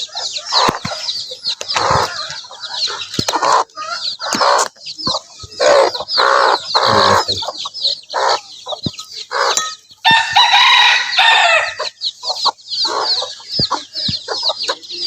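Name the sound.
layer chicken chicks and chickens on a farm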